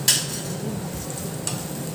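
Spices sizzling in hot oil: a soft, steady frying hiss up close, with two brief sharper crackles as ingredients hit the pan.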